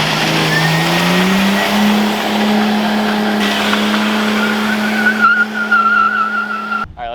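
A Nissan R32 Skyline engine with a new exhaust drones and rises in pitch as it revs, loud and close, with a few sharp bursts toward the end.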